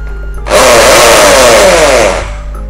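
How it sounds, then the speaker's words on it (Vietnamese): A Bosch three-function 220 V hammer drill runs briefly in concrete drilling mode, a loud, dense rattling whine lasting under two seconds before cutting off, with no one talking. "bên này phân bê tông nha anh em"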